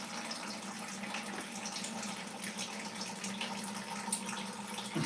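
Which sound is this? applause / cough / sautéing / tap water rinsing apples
tap water rinsing apples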